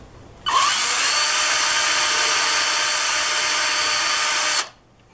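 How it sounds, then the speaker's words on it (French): A power drill pre-drills the end of a wooden crossbar to take screws, running as one loud, steady whir for about four seconds, close by, then stopping. "On préperce maintenant le bout de la traverse pour être capable d'y insérer les vis."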